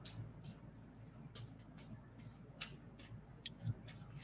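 Tarot cards are shuffled in quick, soft riffling bursts that repeat about twice a second, quiet and close, with a couple of small clicks near the end.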